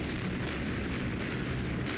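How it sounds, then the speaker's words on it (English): A demolition blast bringing down two six-story buildings from the 1940s: a dense, rumbling roar of debris heard at a distance, sustained and noisy for the whole stretch. "The sound of the explosion could be heard for miles."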